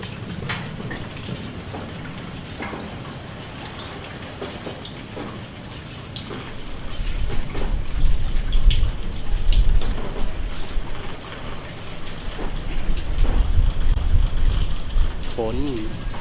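Heavy rain pours down in a continuous dense hiss with scattered drop impacts, growing louder midway, with no talk over it.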